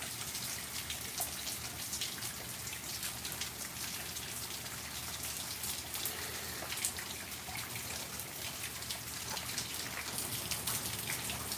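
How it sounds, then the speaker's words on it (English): Evening rain falls steadily and evenly, a soft continuous patter of drops with occasional sharper drips, with no voices over it. "This rain reminds me of when I went to Seattle, and it would rain like this in the evenings"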